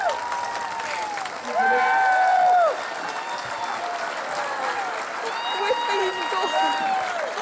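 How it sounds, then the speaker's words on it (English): A studio audience applauds a woman called to the stage on a talk show, with steady clapping mixed with voices and whooping cries throughout. "Give Nikki a round of applause."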